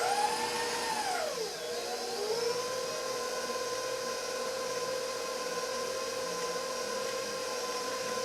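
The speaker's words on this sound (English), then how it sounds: "I guess I need to lift my mixer up." Electric stand mixer motor whirring steadily while mixing cookie dough, a loud close hum whose pitch drops sharply near the start and then holds an even tone with no talking.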